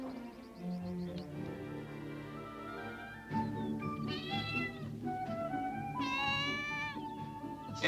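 Mustard the cat meows repeatedly, with several drawn-out, rising and falling cries close by over a steady low background hum, and the last calls are the strongest.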